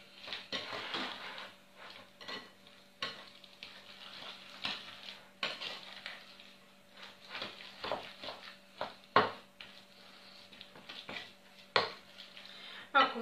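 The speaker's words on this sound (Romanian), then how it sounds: "Cum se amestecă toate. Le amestecăm bine, bine." Shortcrust dough ingredients are mixed in a bowl. A spoon or utensil gives repeated soft clinks, knocks and scraping against the bowl in an uneven, ongoing rhythm, close and fairly quiet.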